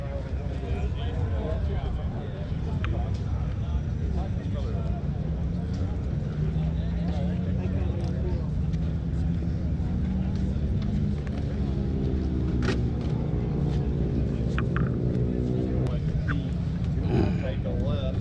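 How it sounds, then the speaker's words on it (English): A 2024 BMW K1600B bagger motorcycle underway, its steady engine drone and road rumble continuous throughout, with a rising tone partway through as it accelerates, recorded from the rider's position. "we'll be riding this BMW bagger"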